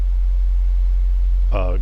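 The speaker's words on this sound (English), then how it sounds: "this is the sine wave we're currently listening to" A loud, steady low sine-wave drone from a Mannequins Just Friends Eurorack synth module hums continuously, with a brief voice starting near the end.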